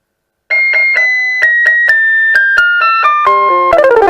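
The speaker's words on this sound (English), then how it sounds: "This song is originally from the real CASIO SA-21." Jingle Bells demo song on a Casio SA-21 keyboard, bright chiming bell-like notes played at a steady tempo, loud and close, ending in a quick rising run of notes, with no talking.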